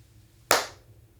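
A single sharp hand clap recorded in a room, a crisp isolated hit with a short reverberant tail over a quiet background.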